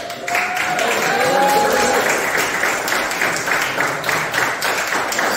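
Loud, steady applause from an audience at a powerlifting competition's prize-giving ceremony, dense clapping filling the whole stretch with a brief voice audible near the start.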